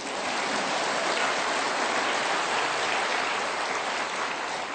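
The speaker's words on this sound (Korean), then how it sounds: "감사 박수 한번 더요." A church congregation in Korea claps during a Sunday sermon, making a steady, dense wash of many hands that sounds almost like heavy rain and holds at an even level without talking.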